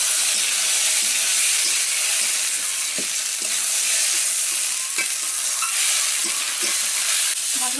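Potatoes frying with spices and fresh green chillies in a pan, a steady loud sizzle with repeated scraping stirs of a spatula, continuous and close, no voices.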